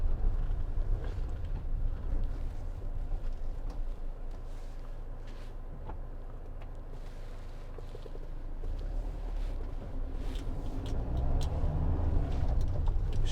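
A Citroen Relay 2.2 HDi 35 Enterprise L3H2 panel van drives along with a steady low engine drone and road rumble, some wind buffeting, rising slightly louder toward the end, no talk.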